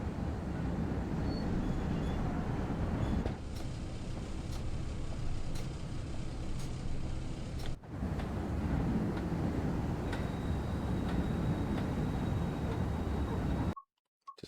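A diesel train rumbles steadily in reverse on the West Coast Main Line between Crewe and Preston in Train Sim World 6, with a low continuous engine drone, faint clanks and a brief cutout near the end.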